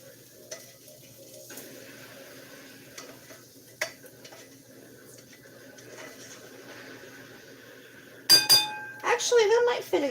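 Cooked mixture for a stuffed mushroom recipe scraped from a pan into a bowl: quiet sparse taps at first, then a burst of close, loud metallic scraping and clinking near the end, with a voice speaking throughout.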